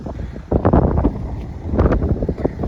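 Wind gusts buffet the microphone in an open sunflower field in a continuous low rumble that swells and eases, with no talking.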